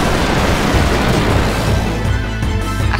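A loud, sustained magical blast from a spell attack in the Final Fantasy 9 game, a dense rumbling burst that fills the whole clip without any voices.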